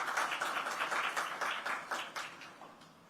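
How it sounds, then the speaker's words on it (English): Faint, distant applause rises in quick uneven bursts from the audience at a live televised state political forum on Madhya Pradesh, fading toward the end. "let's give a warm round of applause for that as well"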